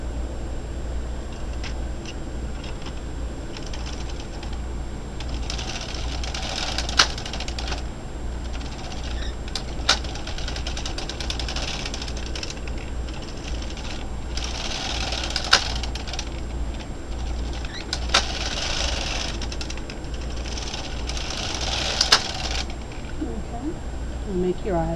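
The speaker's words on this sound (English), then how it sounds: "Okay, now I'm going to knit 5 rows." Knitting needles clicking while rows of a baby blanket with eyelets are knitted, with soft, steady tapping and a few sharper clicks at an even pace close by, under a continuous low hum.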